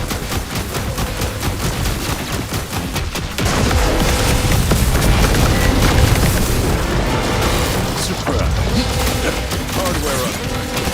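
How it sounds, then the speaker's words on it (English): A dense, continuous barrage of ricocheting bullets from an overloaded spread shot in Contra Operation Galuga, booming shots and bursts packed tightly over loud game music and effects, steady and intense throughout. "Overloading the spread shot creates a barrage of ricocheting bullets."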